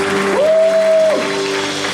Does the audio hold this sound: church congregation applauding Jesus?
yes